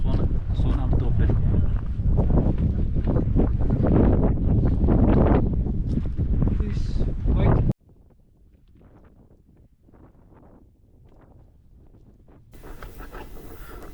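Strong gusts buffet the microphone in a loud, continuous roar beside a mountain lake in Mustang, then drop away abruptly to quieter, fainter wind and low background noise.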